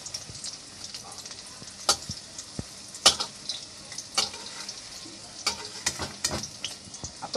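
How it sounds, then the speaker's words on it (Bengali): Egg and greens fritters (kolmi shak) frying in oil in a pan, a steady close crackle with sharp pops and spatters scattered throughout, no voices. "এই যে আমার বড়াগুলো ভাজা হয়ে এসছে"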